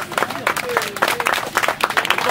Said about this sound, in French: Donc on va applaudir le président de Jeunesse de Bourges.